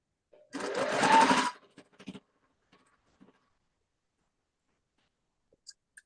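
A single short burst of a sewing machine running for about a second, followed by a few faint clicks and near silence.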